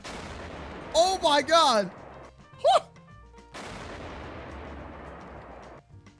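Tank cannon fire in a modded Minecraft Nerf guns battle, heard as booming blasts with rumbling noise that linger afterward. A man briefly exclaims over the first shot.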